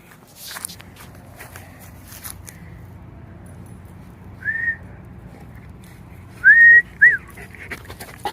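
Two short whistled notes, the first a brief tone and the second a longer rising-then-steady whistle, over quiet outdoor background with faint rustling.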